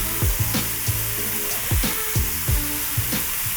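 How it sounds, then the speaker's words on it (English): Strips of beef sear loudly in a very hot pan for a noodle stir-fry, giving a steady, close frying sizzle broken by repeated sharp clatters as the meat is spread out and moved. "You want to see the smoke, hear the sizzle."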